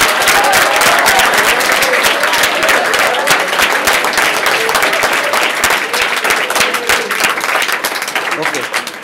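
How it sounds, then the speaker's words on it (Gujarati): Loud, sustained applause from an audience honoring a debate winner at an education event, dense clapping running steadily throughout and tapering slightly near the end. "તો એના માટે જોરદાર તાળીઓ."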